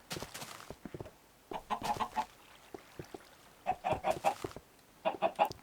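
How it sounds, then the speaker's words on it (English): Chickens in the Minecraft video game clucking in several short bursts of choppy squawks, fairly close and clear with quiet gaps between them. "Blasted little chickens."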